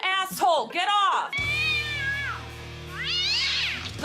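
A cat meows and caterwauls loudly and close by in a run of rising and falling wails, a few short cries followed by long drawn-out yowls over a steady low hum, with someone shouting angrily over them.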